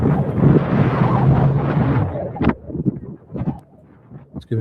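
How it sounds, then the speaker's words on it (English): Gusty wind buffets a microphone outdoors in Tucson, Arizona, a loud rumbling roar for the first couple of seconds that breaks into scattered thumps and bursts as the gusts ease. "It's definitely windier."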